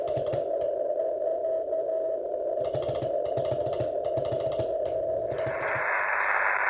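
Morse code CW signal from a two-transistor QRP transmitter received on a radio: a steady tone with keyed pulses over static and hiss, fairly faint.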